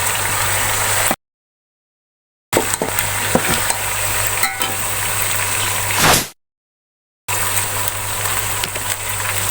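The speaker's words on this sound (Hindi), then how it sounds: "अब इसको थोड़ी देर भून लेंगे। अब मैंने बीफ को थोड़ी देर भून लिया है।" Beef fries and is stirred in a pot with a loud, steady sizzling hiss and scraping, broken by two brief cuts to silence, with no one speaking.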